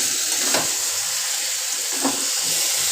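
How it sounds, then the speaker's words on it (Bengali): Water pouring into a pan of bottle gourd curry as it cooks, a steady broadband wash of liquid with a couple of brief splashy swells, close and continuous with no talk. "আমি এবার একটু জল ঢেলে দেবো।"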